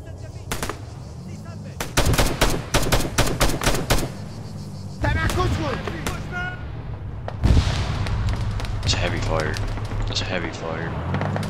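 Machine gun fire in the video game Arma 3: fast rattling bursts, loud and close, then heavier distant gunfire and explosions, while someone talks over the shooting.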